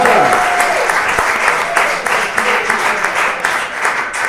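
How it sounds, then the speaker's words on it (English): Audience applause fills a comedy night at Seven Dials Comedy. It is a dense, steady wash of clapping that stays loud and even for several seconds with a few voices mixed in. "please give yourselves a round of applause for arriving"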